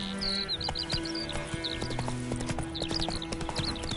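Horse hooves clip-clopping at a steady rhythmic gait in The Witcher 3: Wild Hunt, mid-distance over game ambience with faint chirping birds and low background tones.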